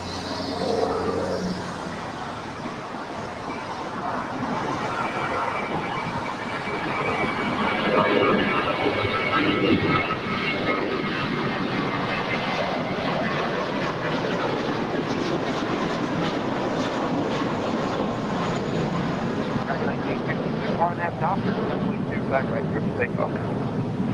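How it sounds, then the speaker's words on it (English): An American Airlines A321 jet rolls down runway 25R at LAX with a steady, broad engine roar building and holding from a distance, while someone talks over it. "we've got American A321 on our way to Vegas, flight 1763, now rolling down 25 right"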